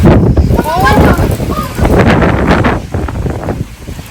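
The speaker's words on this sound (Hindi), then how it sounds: "बारिश के साथ साथ धूप भी है और बहुत तेज हवा चल रही है।" Strong wind gusts roar outdoors during rain and sunshine, buffeting the microphone loudly and close, while someone talks over it.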